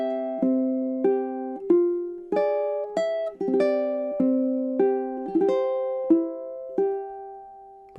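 A ukulele picks the opening measures of Chopin's Nocturne Op. 9 No. 2, plucked notes and chords ringing one after another in a slow, lilting melody, close and clear with no voices.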